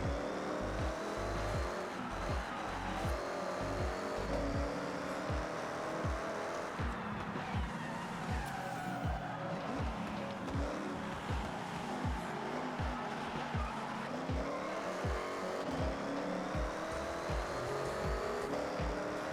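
A 1955 Chevy 150 Sedan touge build in Forza Horizon drifting, with a steady engine drone and long continuous tire squeal, repeated rhythmic engine pulses throughout, no voices.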